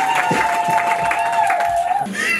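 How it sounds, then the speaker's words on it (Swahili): Church congregation at a pastors' installation ceremony cheering and clapping, with a sustained high ululation riding over a lively crowd roar and scattered claps for a couple of seconds. "Makofi na vigelegele kwa Bwana"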